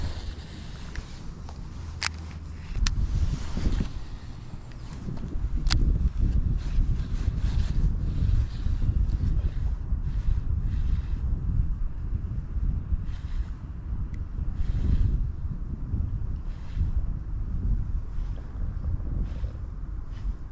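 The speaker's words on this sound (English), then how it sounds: "It's a pretty windy spot." Wind gusting at a lakeside bass-fishing spot, a steady low roar buffeting the microphone with a few sharp knocks and clicks, loud and continuous with no talking.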